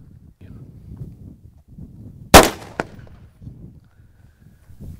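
A single sharp gunshot rings out through an SJC Titan or X1 compensator on a firearm, loud and close, followed by a short echo or second crack, with quiet background murmur around it.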